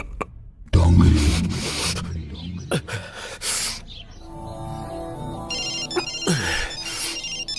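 Incoming call on a minister's phone in a Hindi-dubbed action film: a melodic ringtone plays in repeated tonal phrases amid loud sound effects and background music.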